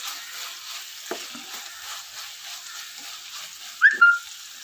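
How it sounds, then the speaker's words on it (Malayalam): Onion, tomato, masala, coriander leaves and curry leaves sautéing for a banana-leaf-wrapped pearl spot fish dish, a soft steady sizzle with a few spoon scrapes and a brief clatter near the end, with no talk. "അതിൽ നമ്മൾ മല്ലിച്ചപ്പ്, കറിവേപ്പില ഇടാം. എന്നിട്ട് എല്ലാം കൂടി വഴറ്റി കൊടുക്കുക."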